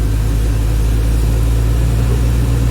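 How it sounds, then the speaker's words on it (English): A truck engine runs under driver control with its RPMs being raised, a loud, close, steady low drone with strong rumbling harmonics and no voices. "I don't know if you guys can hear the RPMs on the truck coming up."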